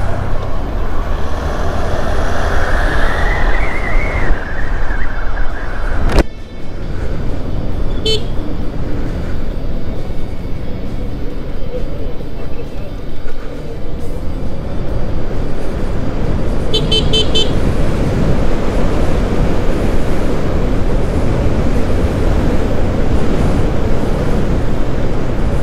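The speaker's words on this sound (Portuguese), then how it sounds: "Vou parar de falar um pouquinho aqui e acelerar nossa Baxi Black Hawk" A Shineray Bashi Black Hawk electric motorcycle accelerates on the road in a steady, loud, continuous run with a brief break near the start, while traffic and a faint horn sound in the background.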